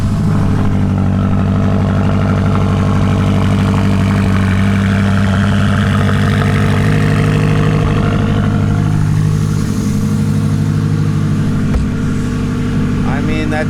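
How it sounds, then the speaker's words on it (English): A BMW E70 X5M with a twin-turbo V8 idles after a cold start, a deep, loud, steady rumble with a rough low throb heard up close and unbroken throughout. "this is the final cold start I'll ever hear this thing"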